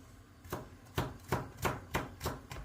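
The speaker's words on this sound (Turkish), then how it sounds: "Sarımsaklarımızı da şöyle ikiye böldükten sonra minik minik onları da doğrayalım" A knife chops halved garlic cloves finely on a board for roasted eggplant kavurma: about seven crisp, evenly spaced strikes, close and clear, with no talking.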